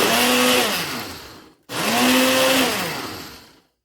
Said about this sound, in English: I just use a regular grinder off my Ninja. It's going to get loud. Grind it into a fine powder.